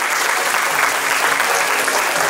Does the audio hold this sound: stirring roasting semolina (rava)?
no